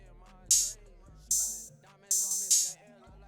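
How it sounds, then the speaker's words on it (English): Open hi-hats in a trap beat built in FL Studio, four bright sizzling hits that ring and decay over a darker backing beat, with the third and fourth close together. "And then where the part of more sounds I added was the open hats."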